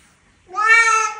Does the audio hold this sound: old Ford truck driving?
no